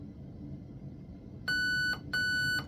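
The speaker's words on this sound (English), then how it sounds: "I pull the trigger until I hear 3 beeps" A Raven Evolution Furion ETU electronic trigger board sounds two clear, evenly pitched electronic beeps in quick succession during programming, each about half a second long, loud and close over a quiet hum.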